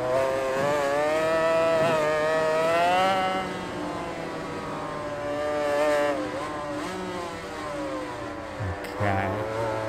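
Racing motorcycle engines in MotoGP 20, a high whining tone that rises and falls through gear changes and throttle swells, loud and steady across the lap, with another engine note faintly beneath.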